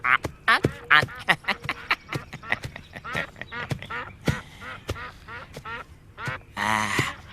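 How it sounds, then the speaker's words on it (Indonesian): Whistling ducks (burung meliwis) quack and call repeatedly in a busy, uneven series of loud, close nasal squawks, some overlapping, with short gaps between bursts. "Nini Mesin, saya bawakan burung meliwis sama jamur barat."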